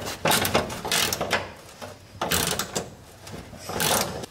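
A wrench works at a stubborn, stuck bolt on an abandoned 1956 Chevy, giving repeated close metallic clicks and ratcheting scrapes in uneven bursts with short pauses between them.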